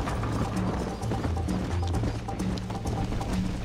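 Galloping horse hooves in the video game Red Dead Redemption beat in a fast, steady clip-clop rhythm throughout, set against a constant low game ambience.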